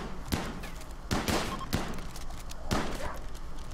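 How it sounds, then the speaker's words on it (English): Gunfire from colonists shooting rabbits in the colony-building game RimWorld, a few scattered bursts of shots in quick succession, moderately loud over a steady background. "Stop shooting my damn rabbits!"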